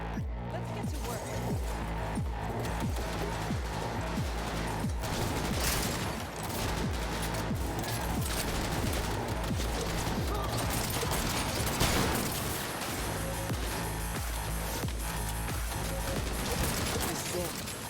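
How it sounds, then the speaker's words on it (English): Turrets firing in a video game, dense rapid bursts of gunfire that hammer on continuously and loudly for the whole stretch, mixed with clanking mechanical noise and occasional crashes. "Turrets! Watch out!"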